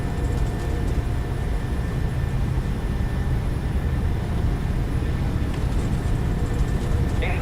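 Airliner jet engines spool up for takeoff in Microsoft Flight Simulator 2020, a steady loud broadband roar with a sustained whine that holds even throughout, with no speech.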